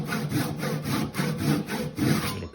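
A handsaw cuts through wood in steady back-and-forth strokes, about five rasping passes, close and fairly loud.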